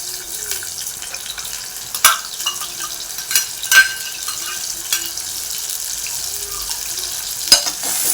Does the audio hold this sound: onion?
yes